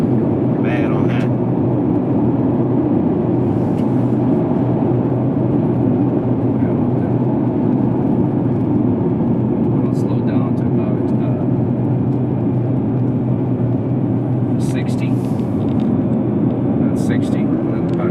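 A steady low rumble of tires on a rough road, heard from inside a moving 2017 Nissan GT-R, continuous and fairly loud, with occasional faint clicks.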